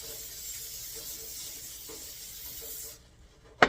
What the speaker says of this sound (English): A little bit of olive oil spray.